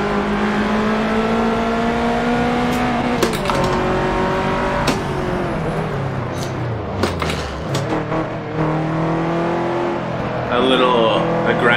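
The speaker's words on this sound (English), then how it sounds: "I grinded the gear a little right there." A race car in Forza Motorsport 7 revs through its gears with a steady engine tone, then a brief grinding clash at a shift as the revs drop and climb again, with a voice speaking over it.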